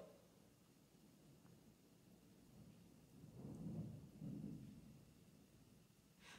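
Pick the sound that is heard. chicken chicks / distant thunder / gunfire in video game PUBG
distant thunder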